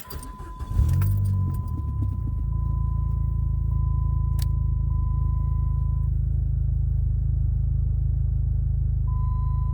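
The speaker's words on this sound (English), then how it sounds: "Let me start the car." A Dodge SRT-4 engine cranks briefly and catches, then settles into a steady, deep idle rumble that holds for several seconds, with a faint chime tone and a jingle of keys at the start.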